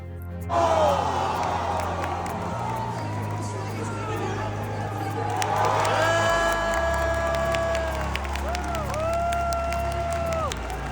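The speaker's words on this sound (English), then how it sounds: "The crowd went absolutely wild when he pulled off the win" A large crowd cheers and roars at a Pokémon Worlds 2025 match win, a steady wash of noise that swells midway, with some talking mixed in.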